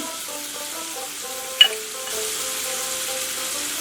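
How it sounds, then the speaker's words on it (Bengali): About 200 grams of prawns fry in hot oil, giving a steady, even sizzle at close range, interrupted once by a brief sharp clack, over a faint tonal background. "তেলটা গরম হয়ে গেছে, মাছগুলো ছেড়ে দিচ্ছি।"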